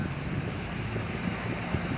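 Strong wind roars against the microphone while heavy waves surge around a boat on a two-hour crossing toward Boracay; a dense, continuous rush with no pauses.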